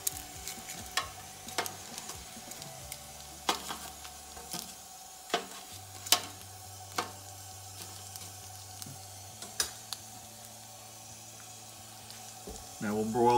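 Potato skins sizzle steadily on a broiler pan after broiling about five minutes per side, with scattered sharp clicks and clatters from flipping them over, a low hum running beneath, and no talk.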